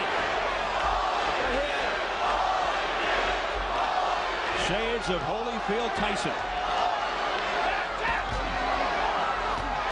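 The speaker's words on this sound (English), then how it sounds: "The crowd trying to urge Holyfield on." Boxing arena crowd at the Holyfield versus Moorer rematch, roaring to urge Holyfield on: a dense, steady wall of crowd noise under a commentator's continuous talk.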